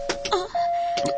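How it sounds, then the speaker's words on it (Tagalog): An electronic doorbell in a mansion rings with a steady tonal chime that holds for about a second, with a couple of soft bright ticks at the start and end. "May nag-doorbell."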